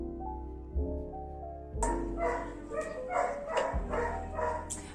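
A dog barks indoors, a few sharp barks and yips arriving in an irregular burst after a quieter hum, fairly close and with no speech.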